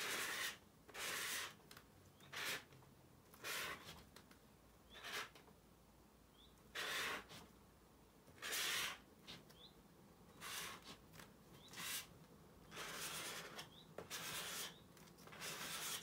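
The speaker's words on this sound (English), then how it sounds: "So let's see what happens when we scrape some of the paint." A paint scraper drags across the surface of an abstract painting in short, repeated rasping strokes, each a burst of dry scraping with brief pauses between, close and fairly quiet, with no talking.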